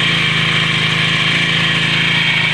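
A 4-stroke grass cutter engine running steadily during break-in, a constant loud buzzing drone with a high whine, close up and unchanging, no voices.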